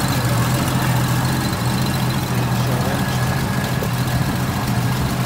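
A 1965 Ford Mustang with an inline six-cylinder engine idles steadily and close by, a continuous low rumble with a faint tonal hum running unbroken throughout, and no talking.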